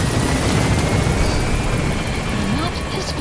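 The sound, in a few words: helicopter flying in a video game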